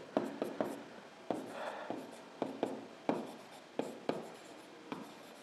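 A pen writes an equation on paper during a class 10 chemistry lesson on gas behaviour, giving quick scratchy strokes and taps in short bursts, close and fairly quiet, with no talking.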